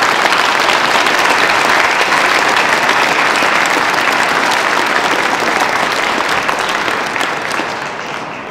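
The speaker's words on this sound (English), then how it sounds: "A big round of applause for them" A rally crowd at the Iowa Statehouse gives a big round of applause for state senators and representatives, loud sustained clapping that fades slightly near the end.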